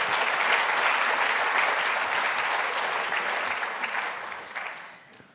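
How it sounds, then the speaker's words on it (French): A large audience applauds at the final of an eloquence contest, with dense, sustained clapping that fills the room and then fades out over the last second. "Un tonnerre d'applaudissements pour..."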